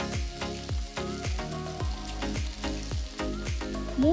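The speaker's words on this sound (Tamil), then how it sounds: "அடுத்து 2 வெங்காயம் மெலிசா நறுக்குனது போடுறேன்" Two thinly sliced onions frying in about three teaspoons of oil with fennel seeds in a kadai, a steady close sizzle with crackling pops throughout and no talk.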